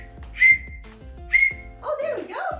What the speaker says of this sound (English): Oh, a dog whistle.